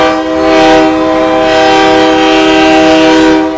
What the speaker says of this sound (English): That is a powerful horn.